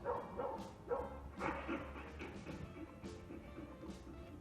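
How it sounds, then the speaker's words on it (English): A dog barks in a recording played by Google Assistant, a series of several sharp barks over the first couple of seconds, then quieter yips and whimpers, moderately loud. "play a dog barking"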